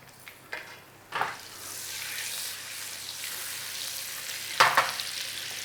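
Butter sizzles in a frying pan with a steady broadband crackle that swells after a couple of soft knocks, holding level and close, with a brief sharper clatter near the end.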